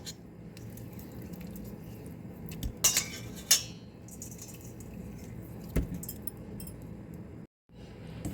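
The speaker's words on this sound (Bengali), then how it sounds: "এখন লেবু এবং লবণ দিয়ে মাছটা আমি ভালো করে পরিষ্কার করে ধুয়ে নেব" Puti fish get rubbed and rinsed with salt and lemon in a bowl: wet rubbing and dripping water under a few sharp clinks of metal or dish contacts, close by.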